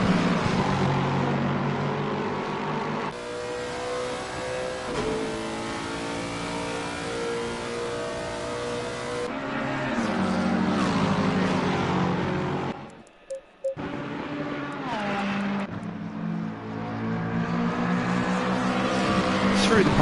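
Race cars roar around the Monza circuit in a sim racing event, engines revving and shifting through corners as several cars pass, loud and continuous under a commentator's voice.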